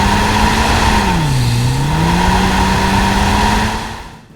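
A 2017-2021 Honda Civic Type R runs hard on a dyno, its engine note sustained and loud, pitch dipping briefly then climbing back and holding steady before easing off near the end.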